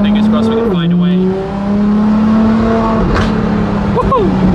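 A Ferrari LaFerrari fitted with a straight-pipe exhaust drones loudly at high revs from inside the cabin. The engine note holds steady, dips when the gears shift and rises again, with a voice briefly over it.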